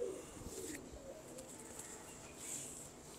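A prized female pigeon coos softly and faintly, a low murmuring call with some light background noise and no voices.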